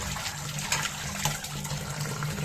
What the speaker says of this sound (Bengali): মাছটা ধোয়া হয়ে গেল